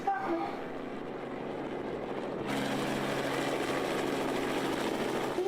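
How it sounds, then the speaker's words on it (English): Helicopter rotor and engine drone heard in a game scene, steady and fairly loud, growing broader and stronger midway through, with no voices over it. "is that a helicopter?"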